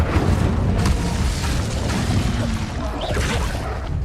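Incendio fire spell cast in the video game Hogwarts Legacy: a loud, steady roaring rush of flame with a dense rumbling body, sustained for about four seconds and dipping slightly near the end.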